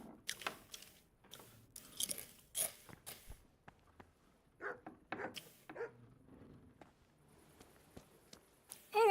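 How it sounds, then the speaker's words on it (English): Salt and vinegar crisps crunch close up in a series of sharp, irregular bites with quiet gaps between them. "And I'm back with salt and vinegar crisps."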